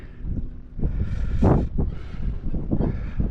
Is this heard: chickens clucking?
no